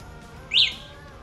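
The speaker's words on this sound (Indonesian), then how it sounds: "Alarm." A Volta 401 electric scooter, a locally made keyless model, gives a single short, bright alarm chirp in the middle of an otherwise quiet moment.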